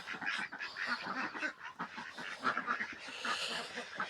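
Ducks quacking beside a newly built three-family duck cage, a busy chorus of overlapping nasal calls repeating throughout, moderately close, with no one talking.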